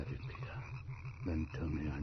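A monstrous frog more than a foot long croaks in a steady, rapid pulsing rhythm, close and fairly loud, then gives deeper, louder croaks toward the end, in an old radio drama.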